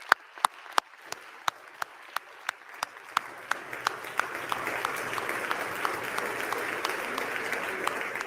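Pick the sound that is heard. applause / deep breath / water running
applause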